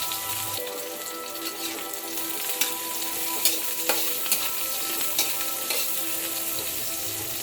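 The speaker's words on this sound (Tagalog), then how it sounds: "Ang uunahin po nating ilagay ay maggisa po tayo ng sibuyas at" Onion and garlic sautéing in a pan for chicken curry: a continuous bright sizzle with spatula stirring and occasional scraping knocks, close and steady throughout, no voices.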